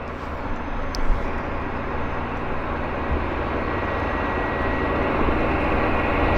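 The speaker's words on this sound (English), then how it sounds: "the 767's finally taxiing to its parking position" A Boeing 767 taxis toward its parking position at Abbotsford airport, its engines giving a steady, broad roar that holds loud and even throughout with no talk over it.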